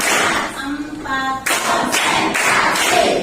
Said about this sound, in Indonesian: tetapi mari kita semua melakukan tepuk fokus.